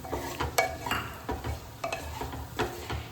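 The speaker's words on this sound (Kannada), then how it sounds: "ಈಗ ಇದೆಲ್ಲ ನೀಟಾಗಿ ಫ್ರೈ ಆಗಬೇಕು" Vegetables fry with red chilli masala in a pan for paneer biryani, a soft steady sizzle under repeated scraping strokes of a spoon against the metal, close and continuous with no voices.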